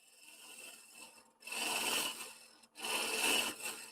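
A woodturning gouge shear-cuts face-grain wood spinning on a lathe, giving two long, steady scraping, rasping passes separated by a brief pause, close and loud.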